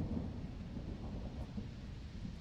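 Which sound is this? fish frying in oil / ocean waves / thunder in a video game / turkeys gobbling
thunder in a video game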